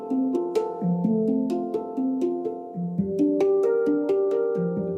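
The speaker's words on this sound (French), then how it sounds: "Le handpan ressemble à une grande poêle retournée" A handpan, a large steel instrument shaped like an upturned pan, is played alone in a flowing melody of ringing, overlapping tones with soft struck attacks, steady and fairly loud throughout.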